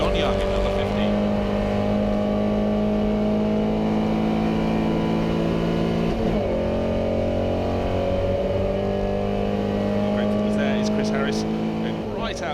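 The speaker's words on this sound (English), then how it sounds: "Chris Harris trying to hang on in the little Porsche as they go down to Madwick, but just that little bit more poke from the Jaguar." Historic racing cars, a little Porsche 356 and a Jaguar, run together at the Goodwood Revival, their engines droning loud and steady at high revs throughout, with a race commentator talking over them.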